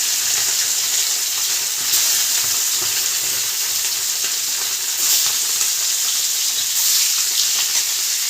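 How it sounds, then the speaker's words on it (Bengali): Duck eggs coated in salt and turmeric frying in hot oil, a continuous bright sizzle and crackle close up with brief surges, no talking over it. "ডিমগুলো মা লাল করে ভেজে নেবে"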